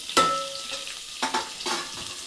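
Garlic, chilies and curry leaves fry and get stirred in a hot pan, giving a steady sizzle broken by a few louder scraping stirs.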